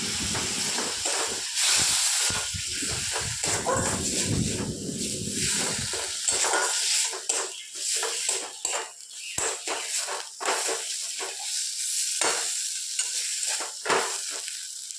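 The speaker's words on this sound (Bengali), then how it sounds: "জিরে বাটাটা দিয়ে দিলাম, সামান্য একটু জল দিয়ে দিলাম।" Cumin paste with a splash of water hissing and sizzling steadily in a hot pan, a close, continuous frying sound with some stirring scrapes and no talk.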